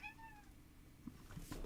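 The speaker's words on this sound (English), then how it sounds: "What are you meowing about?" A pet cat named Waffle lets out a single drawn-out, rising-and-falling meow up close at the start, followed by a few soft thumps and rustles in a quiet room.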